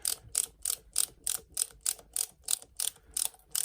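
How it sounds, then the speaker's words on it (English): A ratcheting screwdriver driving a Phillips screw into a brick and plaster wall gives a steady run of about twelve crisp, evenly spaced ratchet clicks, close and alone. "with my nice ratcheting screwdriver that I rely on"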